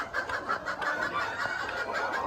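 Ornamental chickens and a rooster cluck and murmur steadily at close range, a dense overlapping flock chatter with no voices.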